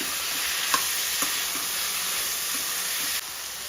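Turmeric and curry leaves stirred into a raw mango sambar with cut brinjal in a pot, a steady loud sizzling hiss with a few soft clinks from the stirring spoon.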